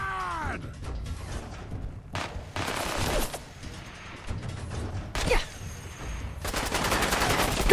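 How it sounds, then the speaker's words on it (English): Bursts of heavy automatic fire from a minigun in a video game, arriving as several loud, dense rattling volleys separated by short gaps, with mechanical clatter in between and the longest sustained burst near the end. "Bravely, we are about to run into a minigun."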